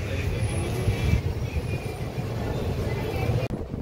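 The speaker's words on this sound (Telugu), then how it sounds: "చాలా స్టార్ట్ అయిపోయింది మన ట్రైన్" The Pinakini Super Fast Express pulls out of a station with a steady low rumble of wheels and carriages, heard from on board, with some talk over it.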